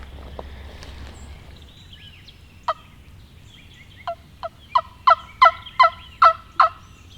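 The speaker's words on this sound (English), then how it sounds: "There's a bird standing out there." A turkey gobbles outdoors, a few scattered calls building into a rapid series of loud, rattling gobbles over quiet background noise.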